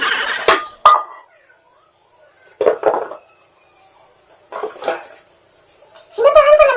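A kawali wok being handled during a birthday-gift unboxing gives a few sharp metallic clanks and knocks, scattered with gaps of near silence between them, close and fairly loud, with a brief vocal sound near the end.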